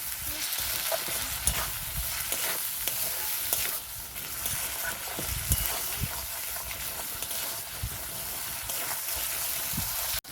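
Rohu fish curry with turmeric and salt is stirred and sautéed in a hot pan, giving a steady, close sizzle with scraping stirs and bubbling throughout, fairly loud, with no talking.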